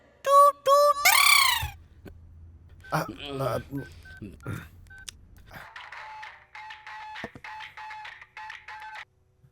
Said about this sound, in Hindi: बार बार डायल करके क्यों परेशान कर रहे हो?